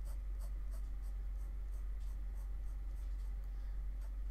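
A Rotring Art Pen sketching on paper: soft, faint scratching strokes close to the mic over a steady low background hum, with no voices.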